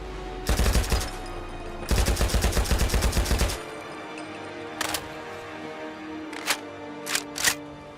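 Rapid bursts of automatic fire from an ASh-12.7 Russian battle rifle in Fallout 4, two loud sustained volleys followed by a few isolated single shots, with no talking.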